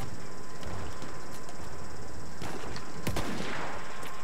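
Artillery fire in the video game Battlefield 1, dull booms and one sharp crack over dense, constant battlefield noise, mixed with scattered gunshots.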